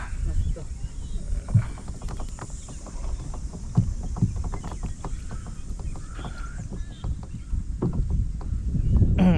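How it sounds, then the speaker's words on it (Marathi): A village rowboat moves and turns on shallow water, with paddle splashes, knocks and water lapping against the hull while people talk throughout over light wind. "आता आपली होडी टर्न मारते."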